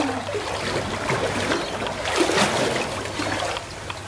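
Water in a swimming pool splashes and sloshes nearby in a continuous, irregular wash of moderate loudness, with no talk.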